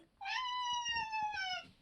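A house cat gives one drawn-out, clear meow lasting over a second, close and distinct against a quiet room with faint low background noise.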